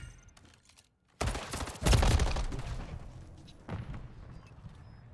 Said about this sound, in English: Bro, I am shooting people so many times with MCW.